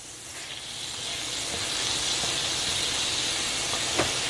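Ingredients for keto green chile chicken sautéing in a skillet, a steady close sizzle and hiss with occasional small pops, continuous and fairly loud with no talking.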